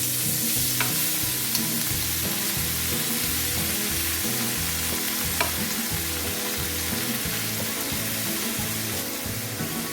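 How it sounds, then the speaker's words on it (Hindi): Chopped spinach hits hot butter and oil in a pan and fries with a loud, steady sizzle, with occasional stirring scrapes and clinks close up and no talking. "मक्खन डालने के बाद इसी के अंदर हम डाल देंगे अपना चॉप किया हुआ पालक।"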